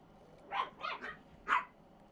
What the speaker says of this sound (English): The dogs woke up from their nap, in case you can't tell.